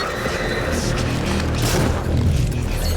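A grenade explosion in a hard-mode session of the video game Prey: a sustained, rumbling low boom that fills the short clip, steady and fairly loud, with no voices over it.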